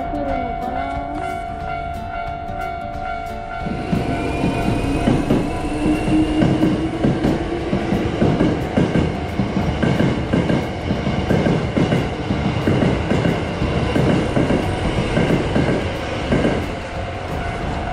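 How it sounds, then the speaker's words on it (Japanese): A Hankyu train rolls past loudly, wheels clattering rhythmically over rail joints with a faint metallic squeal, steady and close for most of the clip, in Osaka. "阪急電車です。"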